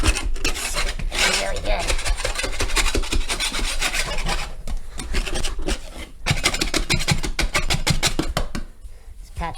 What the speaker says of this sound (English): First thing I like to do is either sand down the patch or scrape it.